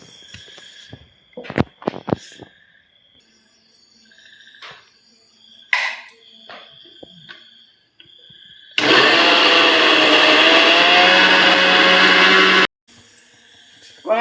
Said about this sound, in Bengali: এই আদাটুকু এখন খোসা ফেলছি, আদাটুকু দেব গ্রাইন্ডারে। যে পাকা লাল মরিচটাও দেব।